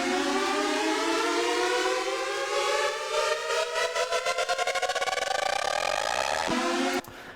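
A sustained synth tone treated with an auto pan effect in Ableton Live, its rate automated to speed up so the pulsing wobble grows faster and more urgent, rising in pitch like a siren before a short final change.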